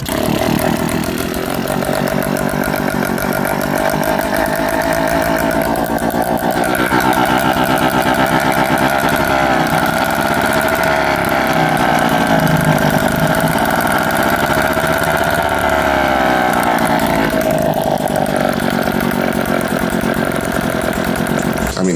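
A Tomos A55 LX two-stroke moped engine with severe air leaks and a loosely attached header pipe runs steadily outdoors, a loud continuous buzzing drone with slight rises and dips in revs and no talk.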